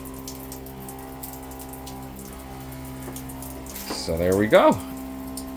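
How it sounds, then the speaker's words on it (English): A shower runs hot from a portable propane tankless water heater rated at 1.6 GPM, giving a steady, faint hiss of spraying water over a low hum. Someone talks briefly near the end. "The shower is working. It is nice and hot."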